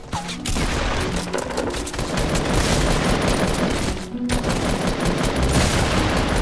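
Sustained automatic gunfire in Fortnite, dense rapid bursts of shots filling the whole stretch with a brief pause partway through, loud and close.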